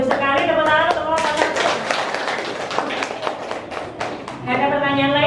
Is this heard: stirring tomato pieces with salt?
no